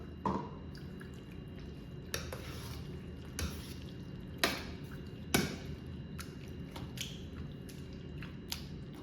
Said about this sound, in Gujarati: આખી વેજીટેબલ્સને સરસ રીતે મેશ કરી લેવાની છે અને થોડું થોડું પાણી ઉમેરતા જઈને મેશ કરીશું